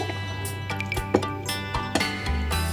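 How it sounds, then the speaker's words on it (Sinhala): Thick coconut milk poured into a pot of simmering potato curry, giving soft liquid splashes and drips in an uneven rhythm over a low steady hum, close and fairly quiet, with no talking. "ඉතින් දැන් මම කිරි එකතු කරගන්නවා"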